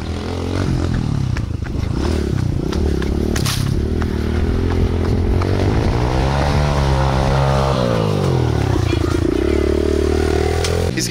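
A dirt bike engine revs hard and holds a wavering whine as the rider swings a 360 wheelie on a driveway beside a muddy track, loud and close with rising and falling pitch.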